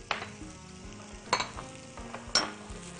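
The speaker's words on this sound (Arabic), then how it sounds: "انا عايزه الفريك يتشوح تشويحه حلوه قبل ما انزل له السوائل" Freekeh sautéing in a pan before any liquid is added, giving a steady close-up sizzle broken by three sharp scraping stir strokes at regular intervals, with no talking.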